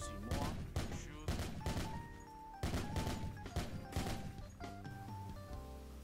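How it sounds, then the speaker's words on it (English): Heavy machine gun firing in the military shooter game Project Reality, loud bursts of rapid shots repeating in quick clusters across the clip, with a faint tonal background underneath. "So this is the heavy machine gun."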